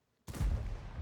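A tank cannon fires in a tank video game, a single sharp blast with a heavy low-frequency boom that rings on for about a second, loud and alone.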